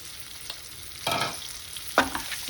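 Ridge gourd curry frying in a pan is stirred a few times, with soft sizzling broken by two or three scraping stirs close by, no voices.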